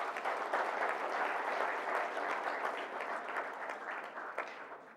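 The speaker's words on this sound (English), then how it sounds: "I give a great applaud to all of us." Steady applause from the audience at an international Olympic research conference session, many hands clapping in an even wash that holds for several seconds and eases off slightly near the end.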